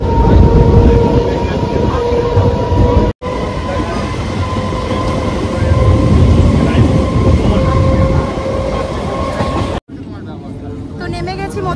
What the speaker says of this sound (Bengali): আমাদেরও ট্রেন চলে এসেছে